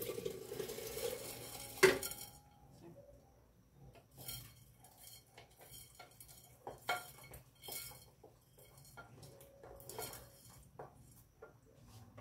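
Mung beans go into a cooking pot and are stirred. A spoon clinks and scrapes against the pot in soft, irregular strokes, with a faint simmering hiss underneath and no talk.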